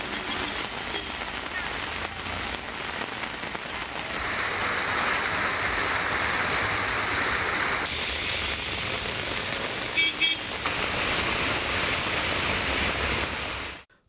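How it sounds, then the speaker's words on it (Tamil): Heavy rainwater streams across a four-lane highway at Kottampatti, Tamil Nadu, after a downpour lasting over an hour, giving a steady, loud broadband rush that keeps going for the whole stretch with no talk. "கொட்டாம்பட்டி 4 வழிச்சாலையில் மழைநீர் பெருக்கெடுத்து ஓடியது."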